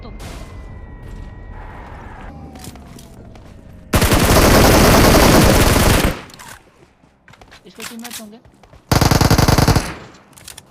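Loud bursts of rapid automatic gunfire in BGMI (Battlegrounds Mobile India), two long volleys separated by quieter stretches where someone talks.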